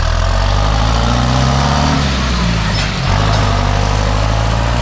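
A John Deere combine harvester working a sunflower harvest drives off with a loud, steady, droning diesel roar. It stays close, with a brief dip and then a rise near the middle.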